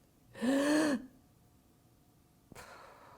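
A voice imitates a sharp gasp for air, one drawn-out, rising breath in close up. After a pause it ends in a brief, soft exhalation.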